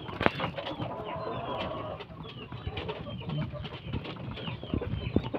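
A few young chicks peep faintly among other fowl sounds, the thin calls scattered and quiet against a busy outdoor background.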